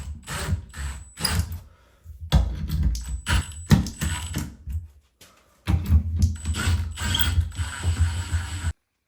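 Bolts being tightened while mounting a closer on a fire door, with a ratchet clicking in bursts of busy mechanical ratcheting and metal knocks, briefly pausing twice before resuming, close and fairly loud.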